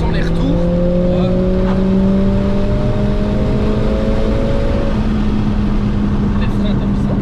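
A Mercedes-AMG CLA45s engine heard from inside the car, a steady loud drone with rising tones as it accelerates before settling, while people talk throughout.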